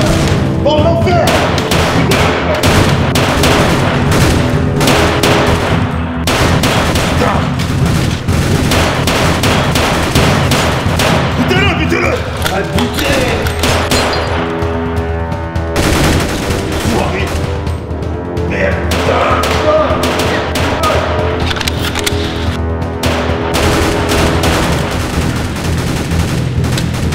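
Sustained battlefield gunfire fills the scene, with dense bursts of shots, thuds and booms running continuously and loudly throughout, mixed with shouting voices in a chaotic military firefight.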